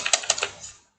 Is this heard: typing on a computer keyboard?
yes